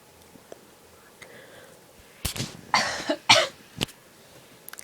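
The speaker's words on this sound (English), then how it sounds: "If I have small coughing fits in the middle of this, then please forgive me." A short fit of several close coughs in quick succession after a quiet pause, followed by a faint throat sound.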